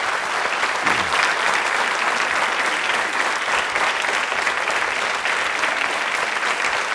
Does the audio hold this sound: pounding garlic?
no